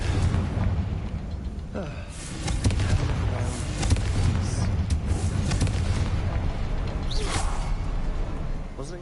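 Blasting spell explosions in a video game, a rumbling continuous roar of booms and crackling bursts layered over each other for several seconds at steady loudness.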